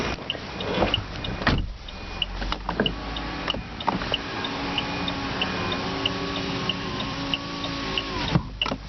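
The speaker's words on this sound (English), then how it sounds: "Must be something wrong with the motor in the windows, because it doesn't go up particularly fast." Slow electric window motor in a 2008 Saab 9-3 BioPower, a steady whine with tonal hum as the glass creeps upward, close inside the cabin, with a few clicks and thumps around it.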